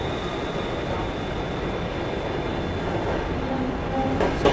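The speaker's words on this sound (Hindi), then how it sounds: "यहाँ मुझे हमारी ट्रेन रुक ना जाए कहीं राजेंद्र नगर टर्मिनस, इस हिसाब से स्लो डाउन हुई है" Inside the Brahmaputra Express as it slows on the rails, a continuous loud rumble and rattle of wheels and carriage with a faint tonal whine, no talking.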